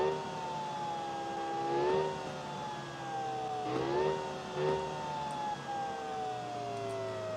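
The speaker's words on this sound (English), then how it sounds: "you have to hear the sound coming out of those many exhaust pipes" A custom-built hearse, billed as the world's fastest, roars through its many exhaust pipes. The engine drones steadily with a strong, whining tone, and its pitch dips and swells a few times as the revs change.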